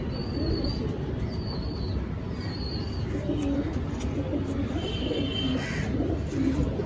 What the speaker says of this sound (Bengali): মাদি পায়রা